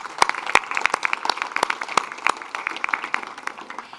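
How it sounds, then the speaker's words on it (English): Sparse applause from a small group, individual claps clearly separate and uneven, moderately close, with no talking. "Then a big applause for Kathy."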